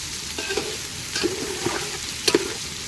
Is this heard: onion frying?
yes